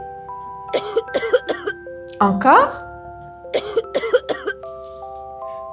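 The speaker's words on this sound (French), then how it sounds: "je vais vous demander de tousser." Several short, harsh coughs in two bursts with a spoken prompt between them, close and clear over a steady background hum.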